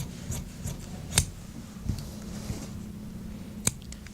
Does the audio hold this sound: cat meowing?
no